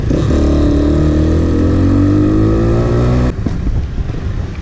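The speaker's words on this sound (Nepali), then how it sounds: "यो बाइकको आवाज चाहिँ राम्रोसँग अझै आउँदैन" An off-road motorcycle engine drones loudly and steadily while riding, its pitch easing slightly before the sound cuts off abruptly, leaving softer road noise.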